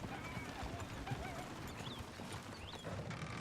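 Horses in Red Dead Redemption 2 clip-clop at a run and whinny, fairly soft and distant, the hoofbeats continuing throughout.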